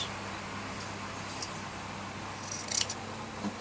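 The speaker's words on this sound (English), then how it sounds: "Okay, so I'm just going to cut that" Scissors cutting stretch lace for a Christmas pincushion craft, a few faint quick snips near the end over a quiet room hiss.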